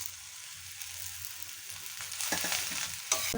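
A steady, soft sizzle of onion and garlic frying on a griddle pan, with a few stirring scrapes near the end.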